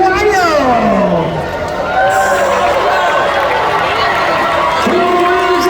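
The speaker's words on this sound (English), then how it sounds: "Decide a winner by your screaming and applause." A large outdoor crowd at a freestyle motocross show at the Arizona State Fair screams and cheers continuously, loud and sustained, with whistles and voices rising over the roar.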